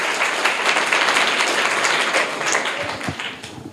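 Loud applause from schoolchildren in a government school classroom in Bihar, cheering a correct quiz answer. Close, energetic clapping fills the room, then thins out toward the end.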